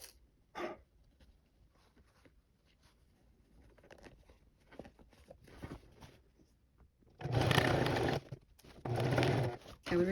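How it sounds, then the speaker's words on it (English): A sewing machine running along a fabric waistband in two loud whirring bursts near the end, after a quieter stretch of small handling sounds. "I'm gonna sew along that line again."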